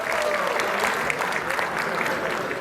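An audience claps at a theatre award ceremony during a theatre festival, a dense, steady round of applause from a crowd, filling the whole stretch at an even level.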